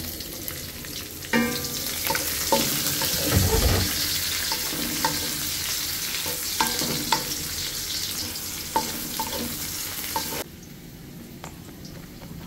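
Chopped onions fry in a pan for biryani cooked outdoors beside the Dhaka–Sylhet six-lane highway, a loud continuous sizzle with repeated stirring scrapes and knocks that quiets abruptly near the end.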